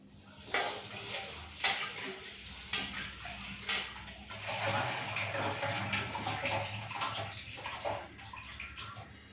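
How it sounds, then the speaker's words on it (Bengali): Red lentils being washed in water in a home kitchen, with sloshing and splashing sounds, broad watery noise and a few sharp clinks of a bowl or pot, moderately close and continuous. "তো ডালটা 3-4 বার ধুয়ে নিয়েছি ভালো করে"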